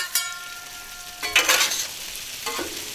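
Red potatoes and sausage sizzle in a pan while two spatulas scrape and toss them, with a few brief bursts of stirring over a soft background hiss.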